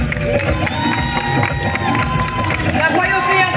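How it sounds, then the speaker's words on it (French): An audience at a stage event claps and cheers under music, a dense crowd noise with scattered shouts and hubbub throughout, loud and continuous. "Sous vos applaudissements, s'il vous plaît."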